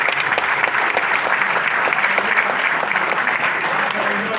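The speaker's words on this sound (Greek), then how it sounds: "Ένα χειροκρότημα." An audience at a village evening gathering on Andros, Greece, claps loudly and steadily from start to finish in dense, sustained applause.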